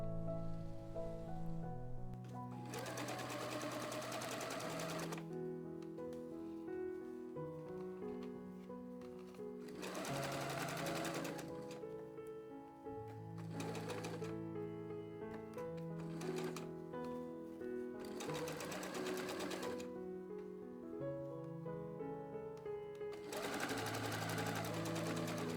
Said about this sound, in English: we will now sew